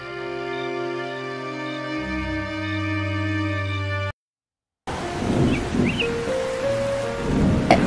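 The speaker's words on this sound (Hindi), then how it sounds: "देखो बारिश होनी शुरू हो गई।" Steady hiss of rain falling in a cartoon, with low thunder rumbling beneath it, heard alone after a stretch of music and a brief silence.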